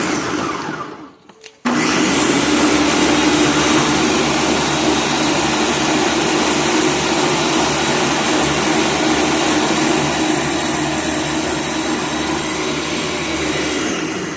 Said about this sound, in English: So this is, like I said, my Ninja blender.